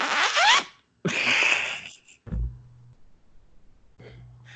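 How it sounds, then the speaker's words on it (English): A record scratch sound effect rips out as two harsh, scratchy bursts close together, followed by a few quieter low thumps and soft noises. "Well, I did the record scratch instead."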